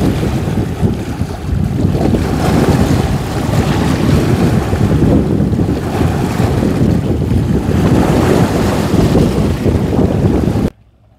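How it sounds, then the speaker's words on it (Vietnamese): Ocean waves crash against the shore along a Vietnamese coastline, a loud, steady churning roar mixed with wind buffeting the microphone, continuous for about ten seconds before cutting off abruptly. "Đây là những con sóng đập qua bờ."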